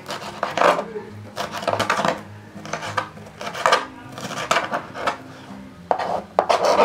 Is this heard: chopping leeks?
yes